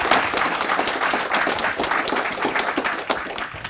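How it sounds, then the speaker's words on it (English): Audience applause at a PyData Ann Arbor meetup, honoring the outgoing host: steady, fairly loud clapping from a room of people, many hands overlapping in a continuous patter with no talking. "So let's give her a round of applause."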